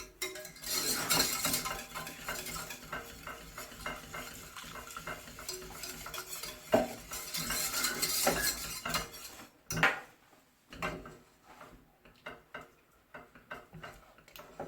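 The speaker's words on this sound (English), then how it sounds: "stir it now and then just to make sure it's not catching on the bottom" An asparagus soufflé mixture is stirred around a pan, a spoon scraping and clinking against the bottom and corners in a busy run that thins out into sparse, quieter scrapes with gaps.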